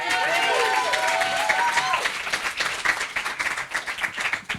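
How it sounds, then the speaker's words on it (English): Applause from a live comedy improv show audience: a dense burst of clapping that thins out after a few seconds, with a voice briefly heard over it. "Round of applause for Paul, everybody."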